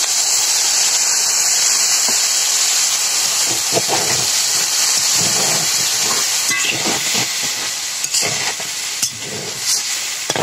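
Water poured into a frying pan of lightly fried taro stolons (kochur loti) for a vegetarian curry sets off a loud, steady hiss of steam, with scattered clinks and scrapes of a spatula near the end.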